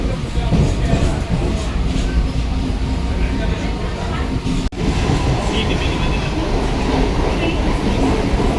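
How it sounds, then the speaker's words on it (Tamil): A passenger train in Chennai, near Adyar, rumbles steadily along the rails with a loud, continuous roar, a brief dip midway, and faint voices underneath. "ஒரு ஸ்டாப்புக்கு போகிறக்காக நம்ம ட்ரெயின் ஏறி இருக்கோம்"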